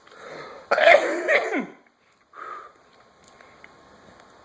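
A cluster of harsh, forceful coughs near the start, then a shorter rough burst after a pause, with quiet room noise between.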